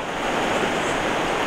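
The Guayllabamba River flowing at dusk, a steady, broad rushing roar of water with no breaks, fairly loud and alone.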